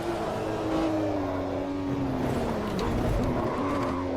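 A race car in the sim racing game Automobilista 2 braking into a corner, engine note dropping steadily with a droning tone and tyre noise underneath, loud and continuous without speech.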